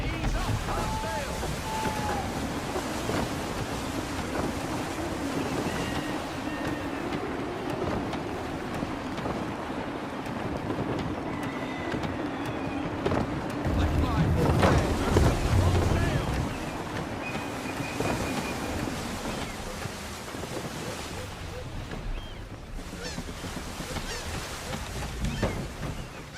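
A sailing ship ploughs through open sea in Assassin's Creed 3, with a constant roar of gusty wind and rushing water, a louder surge midway, and voices talking over the din.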